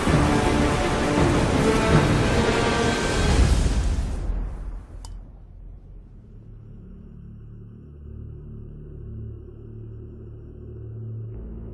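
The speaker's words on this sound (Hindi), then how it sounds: "ये तूफान तब तक थमना नहीं चाहिए जब तक वृंदावन पूरी तरह पानी में डूब न" A heavy rainstorm pours down loudly for about four seconds, with thunder rumbling through it, then cuts off sharply, leaving a low steady rumble and a faint background drone.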